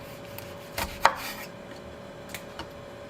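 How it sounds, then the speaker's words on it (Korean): Knife chopping cheongyang and red chili peppers on a cutting board for perilla leaf kimchi, a few sparse, close taps with a sharper single strike standing out, no talking. "고추는 청양고추랑 홍고추를 준비해 줬어요"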